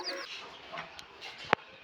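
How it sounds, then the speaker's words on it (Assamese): Chickens clucking softly at a family gathering, a few faint scattered clucks over quiet background, with one sharp close click near the end. "কিউট কিউট মুৰ্গী।"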